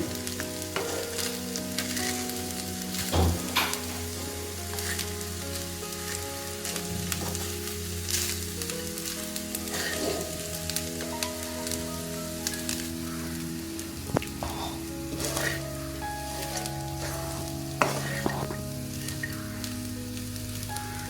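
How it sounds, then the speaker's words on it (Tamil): Carrot rice is stirred with spice powder in a hot pan, a steady close sizzle and frying crackle with repeated scraping and stirring strokes throughout. "இந்த பொடியை போட்டு இப்படி கிண்டி விடுங்க"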